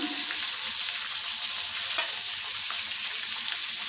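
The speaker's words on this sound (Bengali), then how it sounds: "এখন সবজিগুলো ভেজে নেব।" Onion, carrot and capsicum frying with garlic in a hot pan, a loud, dense and steady sizzle that stays close throughout, with faint stirring scrapes and no talking.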